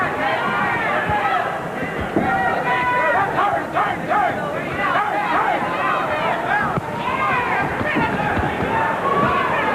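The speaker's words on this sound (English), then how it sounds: "The crowd getting into it." A boxing arena crowd at the Meldrick Taylor vs. Harold Brazier fight reacts with a steady roar and babble after a score is announced, heard continuously under a commentator's talk.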